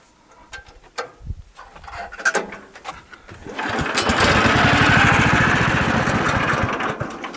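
A sawmill engine starts up and runs steadily as boards are cut from a large log beam on an off-grid homestead, the loud droning whine building after a few seconds of scattered knocks and clatter and holding strong to the end.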